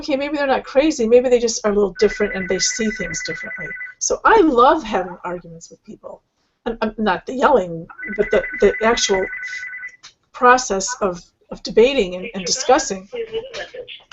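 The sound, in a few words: phone ringing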